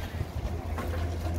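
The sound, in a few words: wind at outdoor market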